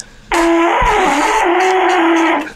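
Low, steady horn-like tone blown through a Parasaurolophus crest hat, a single sustained honk lasting about two seconds, loud and close with a slight wavering.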